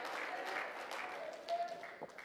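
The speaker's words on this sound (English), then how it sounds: "Clap your hands to the Lord one more time before you're seated." A church congregation at a Sunday evening service claps its hands together, making a soft, diffuse patter of applause heard at a distance under a voice speaking over it.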